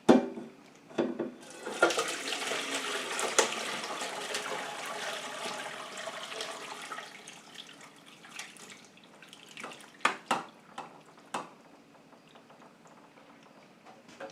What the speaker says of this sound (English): to pour out the pears.